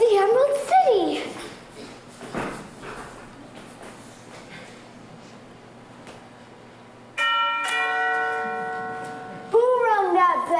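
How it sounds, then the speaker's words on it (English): At the gates of the Emerald City in a school Wizard of Oz stage play, a bell chimes in sustained ringing tones amid children's voices and noisy stage sounds. "Who rung that bell?"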